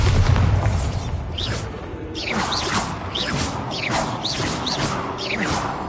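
A Bombarda blasting spell goes off in the Hogwarts Legacy video game, with a low booming rumble and clattering mechanical debris layered over repeated swooping magical whooshes.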